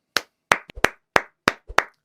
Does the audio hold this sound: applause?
yes